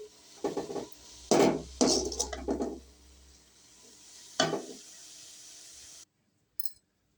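A utensil clinks and scrapes against a pan while a drumstick leaf stir-fry is stirred, in several short, close bursts before the sound falls away.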